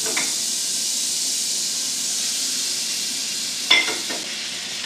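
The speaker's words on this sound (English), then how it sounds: "On a low simmer, reduce that wine until the onions are nice and translucent" Wine and onions simmering in a pan, a steady loud sizzle and hiss with a brief stir or clink near the end, no voices.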